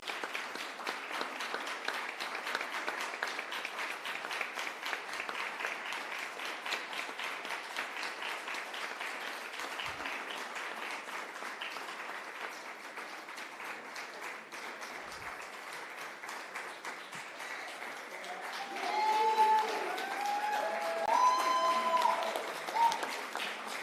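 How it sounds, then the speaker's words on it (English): An audience at a formal report launch applauds for a team brought on stage, steady distant clapping for about twenty seconds that swells louder near the end, with no talk over it. "stand here for a round of applause from the audience"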